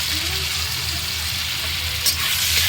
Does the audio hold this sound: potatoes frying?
yes